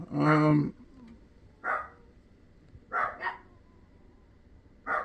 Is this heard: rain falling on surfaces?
no